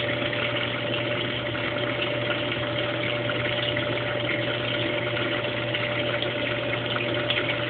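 A Brastemp Baby washing machine drains while spinning out heavy detergent suds, a steady pump drone with a faint tonal hum and watery rush, continuous and close.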